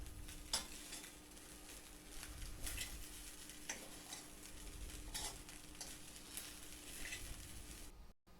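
Schezwan fried rice with spring onion greens is stirred in a pan, a quiet low sizzle with periodic spoon scrapes and light ticks, close but faint, no voices.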